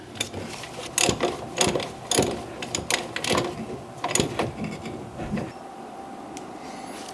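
A hand ratchet snugs up four bolts in a star pattern on an old winter beater car. Close, rhythmic clicking comes in uneven bursts, then fades into a quiet background for the last couple of seconds.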